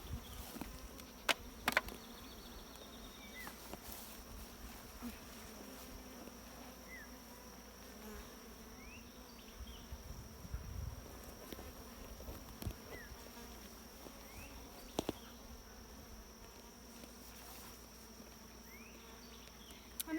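Honeybees buzzing around an opened hive during a beekeeping inspection: a dense, steady outdoor drone of many bees, close, with scattered clicks and knocks of hive frames and no talking.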